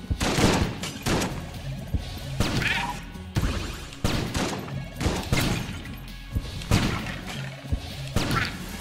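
Video game gunfire from Enter the Gungeon: sharp, loud bursts of shots and crashing impacts in repeated clusters, with brief pauses between volleys.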